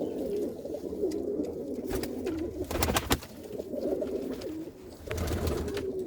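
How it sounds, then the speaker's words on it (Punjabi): An old pigeon of a Malwai line coos steadily in its home loft, a close, continuous throaty rolling call with no voices around it. "ਬਹੁਤ ਪੁਰਾਣਾ ਕਬੂਤਰ ਮਲਵਈਆਂ ਦੇ ਵਿੱਚੋਂ ਆ ਇਹ ਆਪਣਾ ਕਬੂਤਰ"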